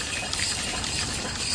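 An antique Worthington steam pump feeding an off-grid boiler moves water in a continuous rushing, gushing stream, a dense steady wash of liquid noise heard up close with no voices.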